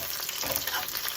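Garlic cloves fry in hot oil in a pan for a Telugu cucumber chutney, giving a dense, even hiss and crackle heard up close and unbroken throughout.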